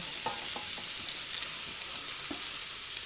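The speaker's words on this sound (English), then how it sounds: "we're just gonna go in with our onions and fennel." Chopped onions and fennel hitting hot olive oil in a pan, a continuous soft hiss and crackle with a few faint stirring knocks, close but fairly quiet.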